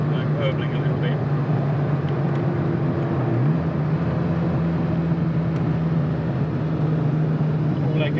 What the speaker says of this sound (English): I've got lovely burbling noise on overrun. You can just hear it burbling a little bit.